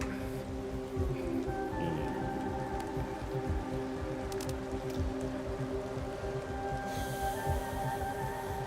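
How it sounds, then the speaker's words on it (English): Rain falls steadily in the video game Planet Crafter, a soft continuous patter under faint tonal game ambience, with no talking. "It's raining."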